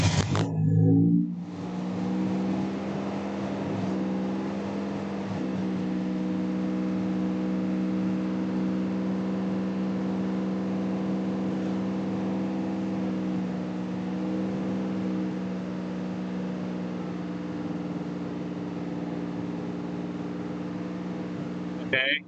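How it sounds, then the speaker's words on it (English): A J35 V6 engine held at a steady raised idle with the throttle slightly open, a continuous droning hum with smooth harmonic tone from start to end, loud and close, after a brief initial burst. "I'm just going to hold the throttle open a little bit."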